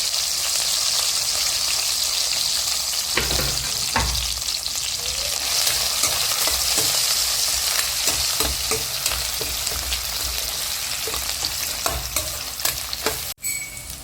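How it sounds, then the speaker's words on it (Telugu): Grated onions hit hot oil in a pan for homemade egg fried rice, giving a loud, steady hiss of frying with occasional stirring scrapes and a brief clatter near the end, with no talking. "ఆయిల్ హీట్ ఎక్కిన తర్వాత తురుము పెట్టుకున్న ఆనియన్స్ని వేసుకోవాలి"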